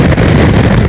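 Heavy crosswind buffets the microphone while riding a motorcycle at the Bruntingthorpe test track, a loud, continuous low rushing roar with no break.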